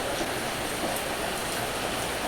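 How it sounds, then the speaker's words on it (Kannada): Heavy rain pours down on a farm on the first day of the monsoon season, a loud, dense, steady hiss of falling water with no voices. "ಭರ್ಜರಿ ಆಯ್ತು ಮಳೆ"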